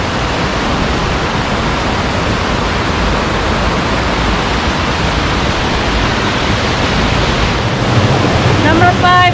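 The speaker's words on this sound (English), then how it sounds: "the sound of the waterfalls and the creek flowing is just so awesome" Waterfalls and a flowing creek along the Falls Trail in Ricketts Glen, a steady, loud broadband rush of water filling the whole stretch close to the microphone, with no talk over it.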